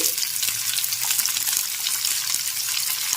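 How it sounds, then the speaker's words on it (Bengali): Whole spices for a Bengali tempering sizzle and crackle steadily in hot oil as they are stirred in a pan, a continuous bright frying hiss with no talking. "এখন ফোড়নটাকে নেড়েচেড়ে ভালো করে ভেজে নিচ্ছি"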